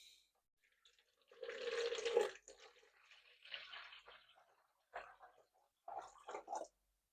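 Water poured into weighed-out yeast for pizza dough, a trickling splash for about a second followed by quieter intermittent dribbles and small splashes, close and soft.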